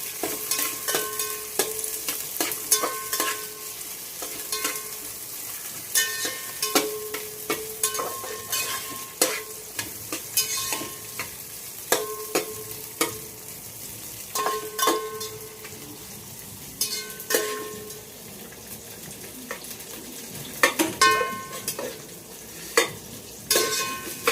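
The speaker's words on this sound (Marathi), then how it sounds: "इथे मी फ्लावर आणि गाजर परतून घेतलीये। छान परतून घ्यायचंय।" Cauliflower and carrot sautéing in a pan with light frying sizzle, punctuated by repeated metallic clinks and scrapes of a spatula stirring at an irregular rhythm, close and fairly loud, with no talking.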